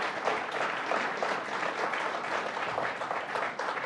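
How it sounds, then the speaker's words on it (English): Audience applause for district attorneys at a governor's public safety budget announcement, steady moderate clapping from a room of people that continues evenly throughout. "Let's give another round of applause to our district attorneys."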